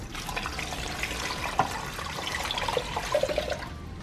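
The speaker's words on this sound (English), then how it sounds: "Okay, so I'll add in some water." Four cups of water are poured into a cooking pot holding eggplant, a close, fairly loud splashing and gurgling stream with a few brief clinks, and no talking over it.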